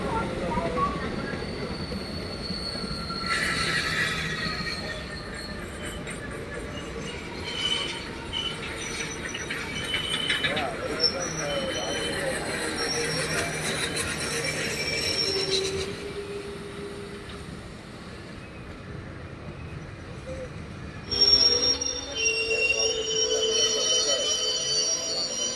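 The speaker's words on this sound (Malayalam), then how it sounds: "നമ്മുടെ ട്രെയിൻ അങ്ങനെ വീണ്ടും കഴക്കൂട്ടം റെയിൽവേ സ്റ്റേഷനിൽ നിന്നും പുറപ്പെട്ടിരിക്കുകയാണ്" A passenger train pulling out of Kazhakkoottam railway station in Kerala, heard from on board as a steady rolling rumble with rattling carriages and occasional squeals and clatter from the wheels.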